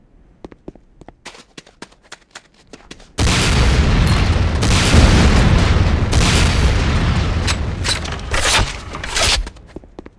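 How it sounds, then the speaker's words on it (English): A rocket launcher fires at targets in the video game Command & Conquer Renegade. Sparse light clicks give way to a loud, continuous roar of rocket fire and blasts that lasts about six seconds and then cuts off abruptly. "Next up is the Sackles A 66mm Type R12 Locust Automatic Rocket Launcher."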